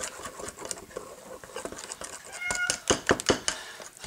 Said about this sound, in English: Tactical Kitty's hollering at me again